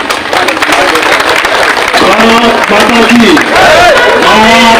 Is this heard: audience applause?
yes